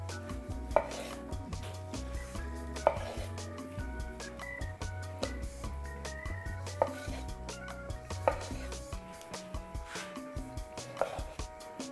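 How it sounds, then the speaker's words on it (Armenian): Tomato and a bunch of fresh herbs being finely chopped with a knife on a board, producing quick, steady rhythmic taps close up. "կտրատում մանր։"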